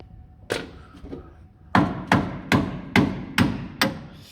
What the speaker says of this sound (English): Give this a little tap with the old copper hammer